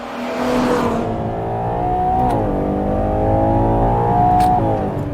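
A V12 supercar engine revving hard and accelerating through gear changes, its rising tone dipping at each shift, loud and close with no talk over it.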